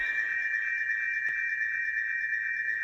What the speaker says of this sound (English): that noise there is basically what happens if you turn the feedback of this tape echo right up